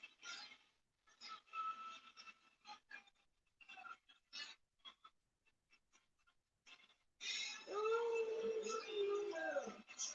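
Puppies let out a drawn-out, wavering howl near the end, loud and close, after a stretch of scattered small scuffling and yipping noises indoors.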